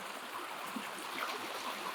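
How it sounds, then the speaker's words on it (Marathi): Steady rushing water from rain and a waterfall in the hills, a constant broadband wash at low level with no distinct drops or breaks. "आता पाऊस चालू आहे ना"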